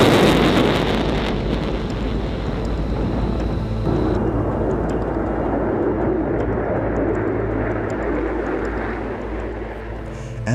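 An F-22 Raptor stealth fighter jet flies past with a loud, broad, continuous roar that stays strong throughout and is heavily buffeted by wind, with no talking.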